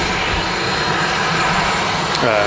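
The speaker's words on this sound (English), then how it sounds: "Helvetic Embraer just touching down there." A Helvetic Embraer jet airliner touches down at Manchester Airport, a loud, continuous engine roar heard outdoors at a distance under wind noise, with people chatting nearby.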